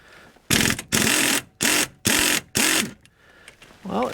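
A pneumatic impact gun hammers at a 15 mm nut on a 1997 Ford Explorer lower ball joint, five loud, close rattling bursts of roughly half a second each separated by brief pauses, with a voice starting at the end.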